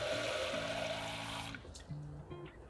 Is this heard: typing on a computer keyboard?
no